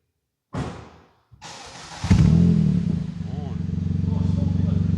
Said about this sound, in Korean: 아반떼 N라인의 순정 배기음.